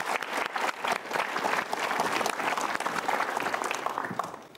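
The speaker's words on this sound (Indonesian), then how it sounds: "berikan tepuk tangan sekali lagi" An audience at a studio motivational talk show bursts into sustained applause, dense and steady clapping that holds at full strength throughout, with a light crowd murmur underneath and no clear talking.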